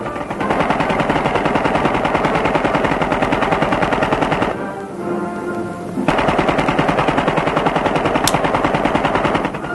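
A machine gun fires continuous rapid bursts during a 1939 Marine demonstration, loud and relentless with one short lull before the chatter resumes, with no voices over it.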